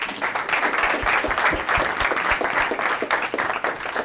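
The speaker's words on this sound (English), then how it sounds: "A huge round of applause again for all of our teams" An audience applauds after startup pitches at a university venture competition semi-final, a dense, steady wash of many hands clapping that stays loud and sustained throughout with no talk over it.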